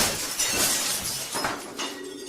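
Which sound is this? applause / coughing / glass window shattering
glass window shattering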